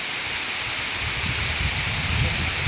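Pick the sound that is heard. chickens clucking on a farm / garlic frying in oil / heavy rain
heavy rain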